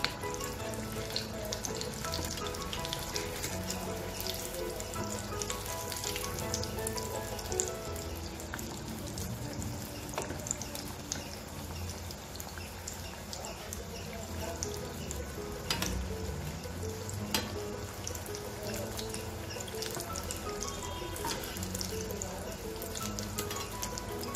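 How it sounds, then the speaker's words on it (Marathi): Batata vadas deep-fry in hot oil, a dense, continuous bubbling sizzle that holds evenly at moderate loudness throughout with no talk over it. "आपले असे सगळ्यांचे आवडते वडे आता रेडी होणार आहेत तळून"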